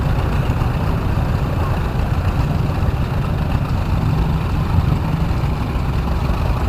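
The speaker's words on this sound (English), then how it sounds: "That was a 1939 Model B John Deere." A 1939 John Deere Model B tractor engine runs at a show, giving a steady, loud low rumble that holds unchanged for the whole stretch with no voices.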